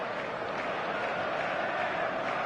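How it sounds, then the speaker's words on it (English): Expectant stadium crowd buzzing before kickoff at a football match in eFootball, a steady, dense roar of many voices with no distinct shouts, continuous and fairly even throughout. "There's a real expectant buzz in the stadium"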